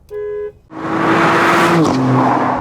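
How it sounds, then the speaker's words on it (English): A short, loud car horn blast rings out at the start, then an engine roars hard and the tires squeal as the car accelerates away, with no voices. "the horn sounds like this."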